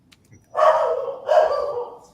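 A dog gives two loud, close barks, each followed by a short trailing tail, with quiet before and between them and no speech over it.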